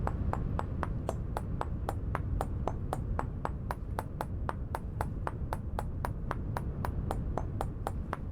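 Steady, evenly spaced sharp taps, about three per second, ring out over a low rumbling background as a flint chisel is knapped in the survival game Vintage Story.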